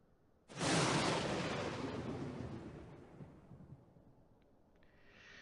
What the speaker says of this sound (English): following that flash of lightning and the sound of thunder